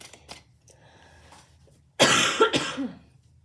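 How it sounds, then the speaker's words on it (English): A couple of close, harsh coughs burst out after a quiet stretch of faint background noise. "Not sure where those 2 coughs came from."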